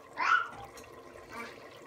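A small splash of water is poured into a pan of simmering sauce for meat rosettes on a low stove, a brief close pour followed by soft bubbling.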